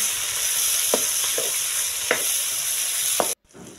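Cashews, chopped tomatoes and ginger frying in a pan, a loud steady close sizzle with a few spaced spatula knocks, cutting off abruptly near the end.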